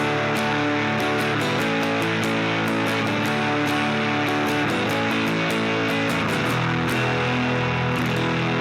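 Electric guitar through an overdrive pedal on its vintage setting, playing a continuous riff with strummed chords and picked notes, moderately loud, saturated and somewhat compressed, no voices.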